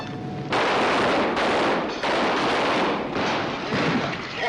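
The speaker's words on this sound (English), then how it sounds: "Go ahead. Keep shooting." Heavy gunfire from a western action film, a dense run of loud, close shots and rapid volleys that keep coming in several bursts throughout, with no voices.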